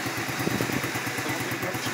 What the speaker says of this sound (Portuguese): Tá testando a motinha aqui.